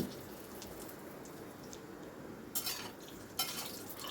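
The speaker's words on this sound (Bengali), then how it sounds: "দেখুন উল্টে পাল্টে আমি কোপ্তাগুলোকে ভেজে নিচ্ছি" A soft, steady sizzle of koftas frying in oil, with two brief clinks of a utensil stirring the pan.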